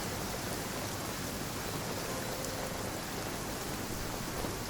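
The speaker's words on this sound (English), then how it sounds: "Let us find shelter from the rain." Steady, dense rain hisses without a break in the Genshin Impact video game, a constant even wash of falling water with no voices over it.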